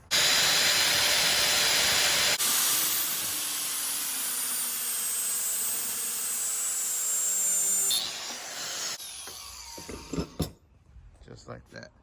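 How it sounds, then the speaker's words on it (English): A Makita power tool fitted with a diamond blade cuts through an oil catch can hose, a loud, steady high-pitched grinding whine for about eight seconds that then drops away into scattered clicks and handling noise. "Makita with the diamond blade."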